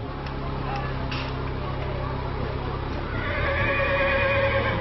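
A horse neighs amid street traffic in Cuba, where old cars such as a 1952 Dodge share the road with horse-drawn buggies and pedal taxis; repeated whinnies ride over dense, steady traffic noise and clip-clop.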